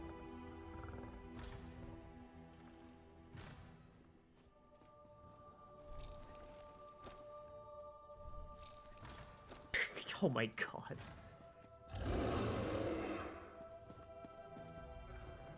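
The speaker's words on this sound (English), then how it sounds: "Sounds like it's just a horse, pretty boring mount." A horse mount in Elder Scrolls Online clip-clops along, with a neigh and whinny, under scattered game sounds while a person speaks briefly.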